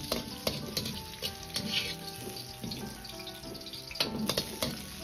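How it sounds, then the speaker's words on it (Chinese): Meat stir-frying in a wok for potato and onion pork, with a bright, continuous sizzle of hot oil broken by repeated scraping and tossing clanks of the spatula, close and busy throughout. "一定要煸炒至肉微黄卷曲， 这样吃起来才香。"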